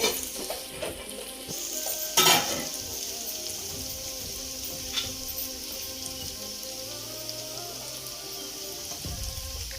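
Basmati rice tipped into a hot pan and stirred, giving a steady sizzle and frying crackle with scraping stir strokes and a sharp clatter near the start, close and without talk.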